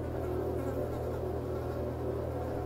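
Flies buzz in a steady, continuous drone throughout a room in the ghost-hunting video game Ghost Exorcism Inc, with no talking over it.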